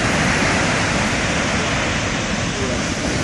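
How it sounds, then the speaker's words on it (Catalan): Storm surf pounding the shore during a coastal storm in October 2016, a loud, steady roar of broadband crashing water that fills the whole span without pause. "Vaya onades."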